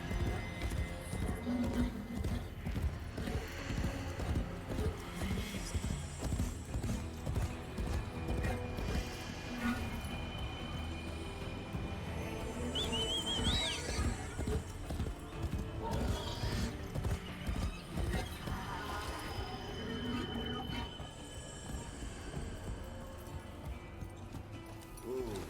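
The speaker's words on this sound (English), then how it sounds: "Ah, el caballo suena chido." Metallic horse hooves clip-clop in a steady walking rhythm in the Warframe video game, with an occasional whinny, creaking and mechanical gear sounds, moderately loud with faint game ambience.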